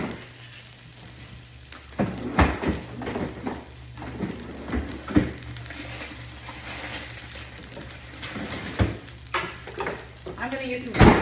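Spinach and other vegetables sizzle and fry in a pan, with steady crackling under occasional stirring clatter and scrapes.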